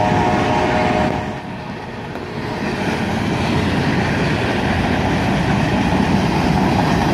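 A big northbound manifest freight train led by a pair of GP38 locomotives rolls past in Carlisle, a steady loud rumble of cars with a brief dip early on before the noise builds back up.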